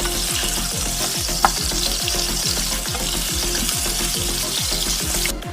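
Vegetables fry in a pan with a steady, close sizzle and a repeating scrape of stirring throughout, no voices.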